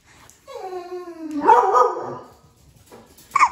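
A person's voice mimics a dog's bark, one drawn-out woofing yelp, close and fairly loud, followed by quiet and a short vocal sound.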